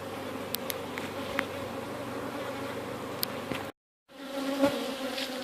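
Honey bees swarming around a large multi-box backyard hive, a dense steady buzz close by with a brief dropout before the hum returns.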